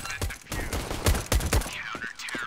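Bursts of video game gunfire, several sharp shots in rapid clusters, loud and close, with muffled talk faintly underneath.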